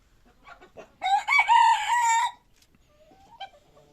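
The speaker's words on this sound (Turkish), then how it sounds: "Küçücük horozu bile ötüyor yani öyle düşünün." A young ornamental rooster on a free-range farm lets out a single crow of about a second and a half, fairly near, surrounded by quiet with faint bird sounds before and after.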